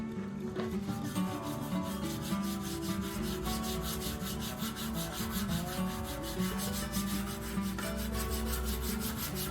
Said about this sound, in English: we're going to take what's in this lid, just a little bit, and just rub it on the bed